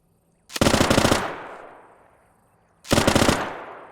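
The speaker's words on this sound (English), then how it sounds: "the machine gun is going" Two long bursts of rapid machine gun fire in a World War II tank battle video game, loud and close, the first rattling for about a second and trailing off into a fading echo before the second burst starts.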